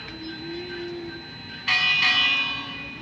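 A village bell in the Minecraft video game is struck twice in quick succession, each a bright metallic clang that rings on after a quieter steady tone.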